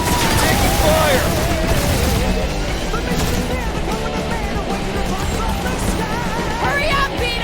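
Blaster fire and explosions in Marvel's Guardians of the Galaxy during a spaceship chase, a loud continuous barrage with booms, mixed with music and excited voices.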